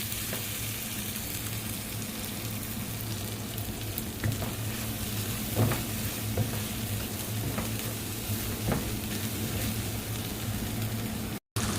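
Ground spice paste frying for nasi goreng, a constant close sizzle with a low steady hum underneath and a few faint stirring knocks.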